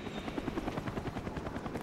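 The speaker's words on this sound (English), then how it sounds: "Enemy Cobra approaching." An enemy Cobra attack helicopter approaches in a Call of Duty Black Ops team deathmatch, its rotor throbbing in a fast steady beat that stays loud and close throughout, with no voices.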